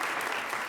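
Brief, light applause from a council meeting audience on Arbor Day, a short smattering of clapping lasting under a second.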